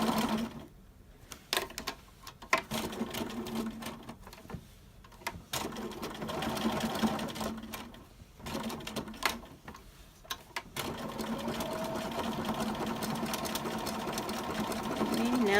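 Domestic sewing machine stitching a hosta stem appliqué with a narrowing zigzag width, running in steady bursts with short pauses, then a long continuous run; close and fairly loud, with no talk over it.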